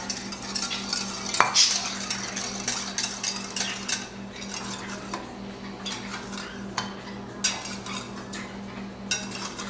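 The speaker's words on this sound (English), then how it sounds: "it's really hard to break the egg and whisk it together" Eggs being whisked in a bowl, a busy rapid clatter of the utensil against the sides, close and fairly loud, with a sharp tap near the start and continuous scraping after.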